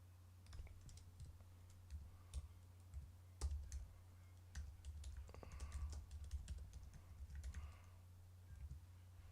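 Computer keyboard typing, a soft run of irregular key clicks in quiet bursts with brief pauses, fairly close and faint, with no voices.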